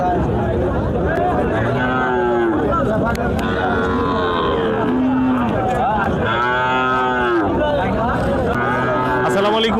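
Cattle at a rural livestock market in Dariapur, Gaibandha, mooing loudly and repeatedly close by, with long drawn-out lowing calls over a busy crowd and nearby talking.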